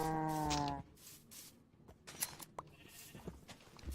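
Cows in a video game moo in a loud drawn-out low call at the start, followed by quieter scattered farm animal noises and faint bleats.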